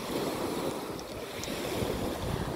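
Waves wash and surge against the shore of the Dead Sea in a steady, rushing roar, mixed with wind buffeting the microphone.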